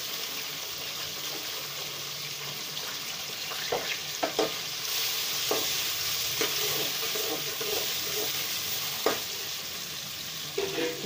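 Onions browning in a pan with a steady sizzle and hiss, close by, while a utensil stirs and scrapes at intervals and gives off occasional sharper clinks.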